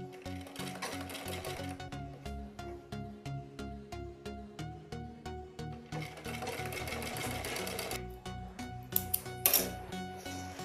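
A sewing machine stitching a baby suit, a steady close mechanical rhythm of even needle beats running continuously, ending with a few brighter metallic clinks.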